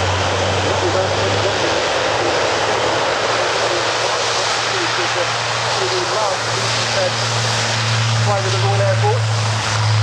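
An Airbus A400M Atlas military transport plane taking off at the RIAT 2012 air show, a loud continuous turboprop engine roar that stays strong throughout, with a commentator talking over it.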